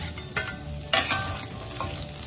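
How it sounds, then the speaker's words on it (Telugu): Onion and bitter gourd pieces frying and being stirred in a pan, with a steady sizzle broken by a few sharper scrapes and crackles, close and alone without speech. "ఇప్పుడు ఉల్లిపాయ ముక్కలు కూడా వేసేస్తాం."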